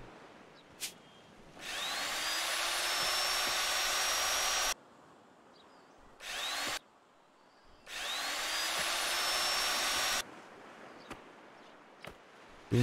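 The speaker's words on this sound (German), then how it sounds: "Dann brauchen wir jetzt nochmal die Flex." Angle grinder polishing railway rails in the video game Train Station Renovation, heard as two sustained loud grinding bursts of about three seconds each with a shorter burst between, and quiet pauses in between.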